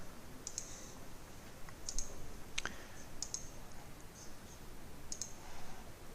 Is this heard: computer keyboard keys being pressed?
yes